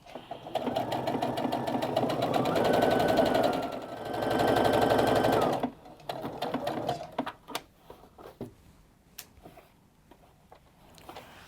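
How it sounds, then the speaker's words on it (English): A sewing machine stitches fabric for a fat quarter skirt, a fast, steady mechanical whir for several seconds that briefly slows and resumes, then stops, followed by light handling clicks and taps nearby. "I like to sew a little forward and a little back"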